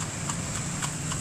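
Horse hooves clip-clop in a steady, unhurried rhythm on a street in Vigan, a few distinct strikes standing out over constant street ambience and a low hum.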